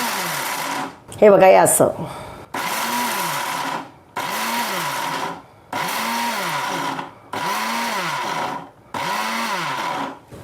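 A mixer grinder pulverises cashews into powder for kaju katli in pulsed bursts, five or six loud whirring runs of about a second and a half, each separated by a short pause, with someone speaking briefly near the start.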